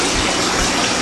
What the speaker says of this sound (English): Notice the filler line on Pond 1. It's positioned fairly high above the water level to aerate